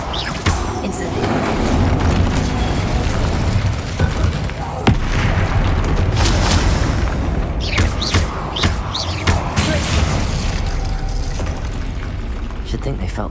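An Incendio fire spell blast in the video game Hogwarts Legacy, heard as loud booming impacts and crackling bursts over a dense, continuous battle din, with a voice shouting spell names throughout.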